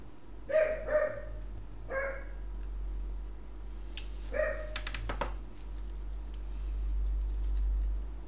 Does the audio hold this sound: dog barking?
yes